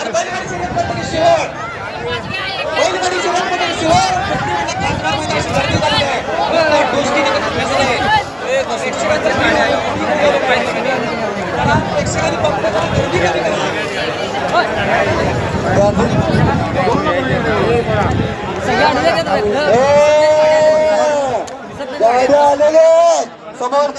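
Loud, dense crowd chatter fills a packed bullock cart race ground during a village fair race, a steady babble of many voices with shouts rising above it throughout.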